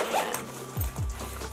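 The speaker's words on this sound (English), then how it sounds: "It has this gold zipper." A gold metal zipper on a Yumi Kim travel makeup bag is pulled in quick, close zipping strokes, with a couple of short rasping pulls near the end over faint room noise.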